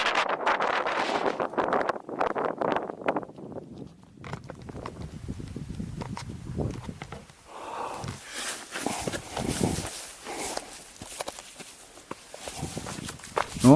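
Gusty wind sweeps across an exposed mountain ridge on the Stara Planina, buffeting the microphone in rough bursts, with footsteps crunching on the rocky trail beneath it and no talking.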